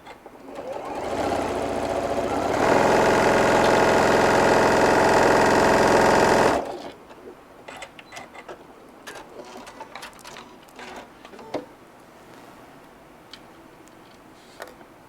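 A sewing machine stitching pieces of a brim hat runs in one loud, steady whirring burst for several seconds close by, then stops, leaving faint clicks and rustles of fabric being handled.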